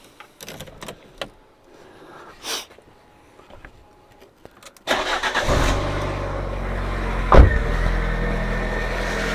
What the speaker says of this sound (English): That's the sound I like to hear, a running engine.